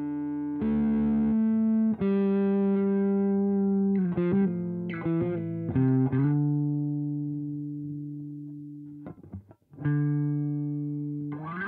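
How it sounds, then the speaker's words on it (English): An electric guitar through a Boss Katana amp's slow gear effect with distortion plays sustained chords that swell in smoothly from silence with each note, no pick attack, slow fades between phrases. "slow gear, which is basically sort of an auto fade-in sort of sound"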